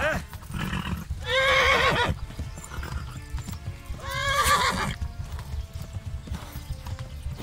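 Horse hooves clip-clop steadily in the video game Kingdom Come: Deliverance, with two loud, drawn-out neighs rising above the trotting, one early and one midway, over low rumbling background noise.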